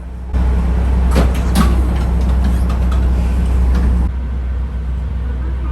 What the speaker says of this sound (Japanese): 中村駅を発車。